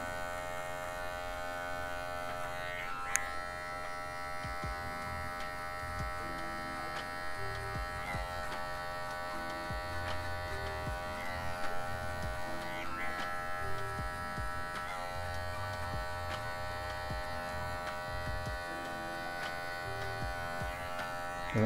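Electric hair clippers buzzing continuously through a V-shaped fade haircut, a steady close electric whine with bright harmonics, faint scraping strokes and a small click early on.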